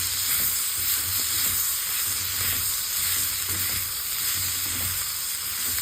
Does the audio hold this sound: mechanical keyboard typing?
no